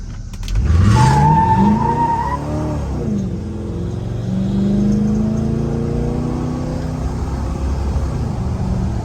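A 1965 Chevelle Malibu Super Sport's engine revs up sharply then settles, followed by a steady accelerating drone as the car pulls away nearby.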